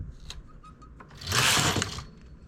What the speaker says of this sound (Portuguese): E cuidando para que a máquina trabalhe.